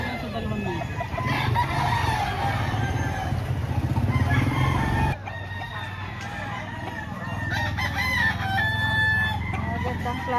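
Roosters and chickens for sale at a Philippine poultry market crow and cluck, with strong layered crowing at first and then busy clucking and calls, mixed with people talking and background noise.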